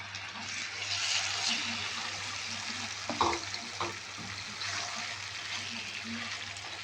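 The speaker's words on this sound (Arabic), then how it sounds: "يلا هنبتدي ننزل بالفراخ بتاعتنا" Chicken pieces for fajitas frying with onions in a pan, a soft, fairly quiet sizzle under a faint hum, with a few clinks and stirring knocks near the middle.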